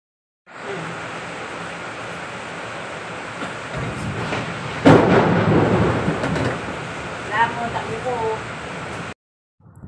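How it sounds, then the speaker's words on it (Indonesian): Heavy rain pours outside in a steady roar while thunder rumbles and swells midway, with a voice talking faintly over the storm. "kat luar hujan lebat"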